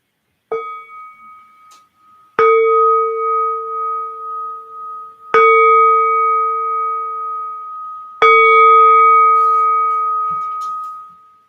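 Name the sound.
meditation bell ringing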